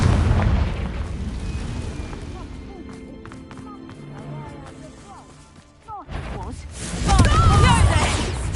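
A Confringo fire spell detonates in Hogwarts Legacy with loud booming crashes, a dense rumbling blast at the start and another surge near the end, mixed with game effects and shouted voices.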